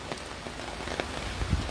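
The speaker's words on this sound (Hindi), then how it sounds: "इंजॉय करो जी बारिश हो रही है" Steady rain patters on surfaces outdoors, a soft continuous hiss with scattered drops and a few faint knocks, no voices.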